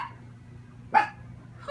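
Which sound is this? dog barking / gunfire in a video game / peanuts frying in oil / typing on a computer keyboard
dog barking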